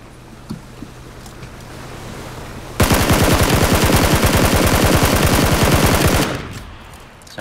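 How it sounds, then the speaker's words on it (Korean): A boat engine in PUBG Battlegrounds sets up a rapid mechanical rattle that begins abruptly after faint background noise, runs loud and steady for a few seconds, then fades out, alone without talk. "보트 소리"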